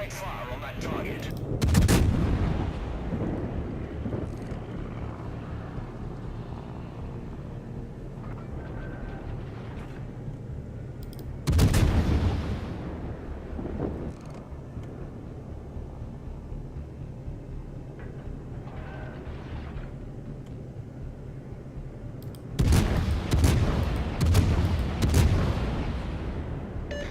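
Heavy naval guns from warships firing in the World of Warships game, three loud booming salvos spaced roughly ten seconds apart over a steady low engine and ambient rumble.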